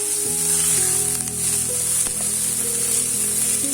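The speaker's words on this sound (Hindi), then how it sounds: "अब हम इसमें शिमला मिर्च डाल देते हैं।" Bell peppers sizzle and fry steadily in a hot pan, a loud continuous hiss with faint stirring scrapes and no talk.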